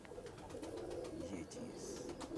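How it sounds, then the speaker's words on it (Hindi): A pigeon coos faintly in low murmuring bursts while people talk nearby, the cooing mostly sitting beneath their voices. "कबूतर अच्छा भी है और खूबसूरत भी है"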